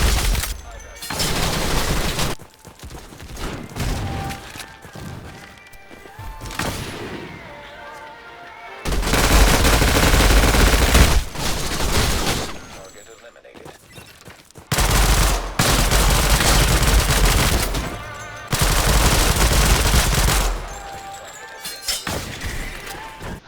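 Guns firing in the video game Decaying Winter, loud bursts of rapid gunfire and heavy blasts broken by short quieter gaps, with a voice talking over parts of it.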